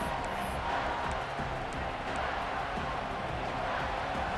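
Stadium crowd in the College Football 26 video game during a Nebraska home game against Grambling State, a dense, continuous roar of cheering on a big third down, steady and loud with no clear speech.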